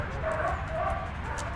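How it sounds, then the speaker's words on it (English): A small yappy dog barks in quick, high yips at a distance during a K9 handler training session, over steady outdoor background noise. "a yappy dog over"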